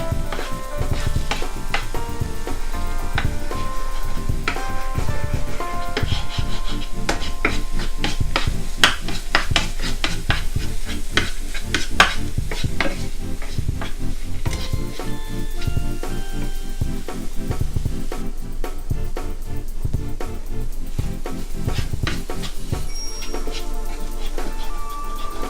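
A spatula stirs and scrambles egg mixture in a frying pan for a Malabar stuffed plantain filling, giving steady close clinks and scrapes over a soft, continuous sizzle.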